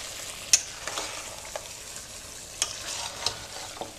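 Roasted cumin powder is stirred into a sizzling kebab mixture in a pan, with a faint fry hiss and several scattered spoon scrapes and taps close by.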